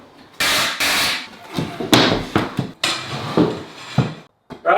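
A 10.8 volt DeWalt impact driver drives small screws into wood for a bench. It gives several loud, sharp bursts of rapid hammering, each a second or so long, with short clanks and pauses between them.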